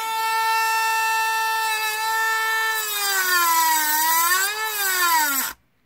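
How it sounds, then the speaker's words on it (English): A Dremel rotary tool cutting a notch into plywood or plastic, a loud high whine that holds steady, sags and wavers as it bogs under load, then cuts out abruptly when it stalls, with no talking. "Dremel shuts down if I push it too hard. Cut a nice notch in there."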